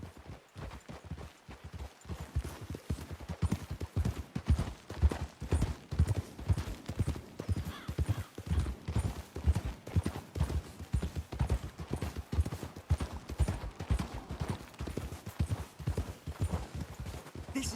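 Horses' hooves clip-clop steadily in the Red Dead Redemption II video game, several animals walking in an even, continuous rhythm, close and clear, with an occasional faint whinny and no speech.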